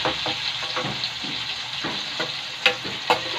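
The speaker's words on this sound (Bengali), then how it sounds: "ফুলকপিটা এরকম একটু লাল লাল ভাজা হয়ে গেছে।" Cauliflower fries in a pan with a steady crackling sizzle, broken by several stirring scrapes and two sharper clanks near the end, close and moderately loud.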